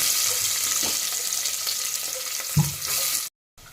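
Onions, cumin, mustard seeds and green chilies fry in about two spoons of hot oil, giving a loud continuous sizzle with a scrape of stirring before an abrupt cutoff.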